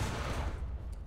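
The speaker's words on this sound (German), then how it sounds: "Ich gebe jetzt einfach mal einen Schuss ab gleich." A tank cannon fires in the War Thunder game, heard as a single loud, booming blast that decays into a low rumble over about a second.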